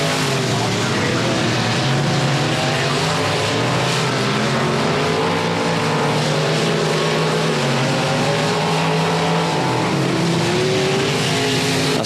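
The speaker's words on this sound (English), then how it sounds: "Well, Shelby Hinton finally pulls out onto the racetrack there." A dirt track race car at the Battle of Boothill roars loudly and continuously as it pulls onto the racetrack, engine pitch rising and falling with throttle, joined by other engine noise and no voices.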